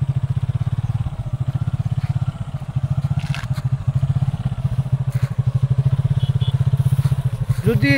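A motorcycle engine thrums steadily while the bike rides along a narrow raised ridge between paddy fields, with light scraping and clatter over the rough path.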